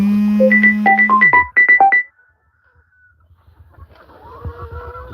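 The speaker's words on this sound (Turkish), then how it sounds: "Bir tane tavuğumuz gelmiş." A hen clucks in a quick run of sharp, rising and falling notes over about two seconds, then goes quiet, leaving soft rustling nearby.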